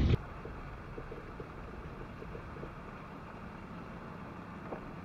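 Steady low engine rumble and tyre noise from a car crawling slowly along a snowy UK road, constant and moderately loud with a faint thump at the very start and no talk.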